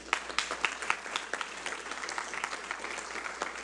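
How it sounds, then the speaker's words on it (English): A community meeting audience gives a round of applause, fairly faint clapping with a few distinct sharp claps at the start that settles into a softer, even patter. "Let's give them a round of applause."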